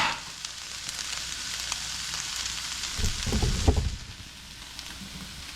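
Pork ham hock chunks and broth crisp in a hot pot, giving a continuous close sizzle and crackle that swells briefly in the middle before easing back.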